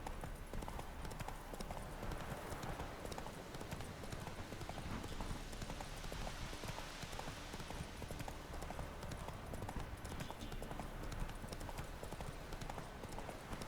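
Hooves of a horse pound in a steady galloping clip-clop rhythm in the Witcher 3 video game, continuous and fairly even for the whole stretch, mixed with dense wind and ambient game noise, no talking heard.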